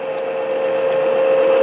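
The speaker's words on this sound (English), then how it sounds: "Be gentle. Let the drill do the work." Drill bores into wood to make a whistle, giving a steady close whirring tone with a faint mechanical clatter that grows slightly louder, with no talk.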